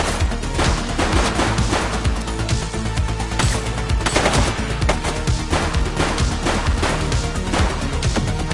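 Sustained loud gunfire in The Precinct video game, with automatic bursts and single shots overlapping in a steady, chaotic barrage that lasts throughout.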